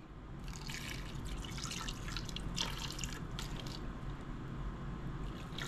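Water poured into a chicken marinade seasoned with ground pepper, a soft continuous trickle and splash with a few brighter bursts, fairly close and steady throughout.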